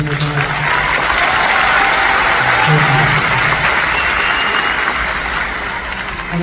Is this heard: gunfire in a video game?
no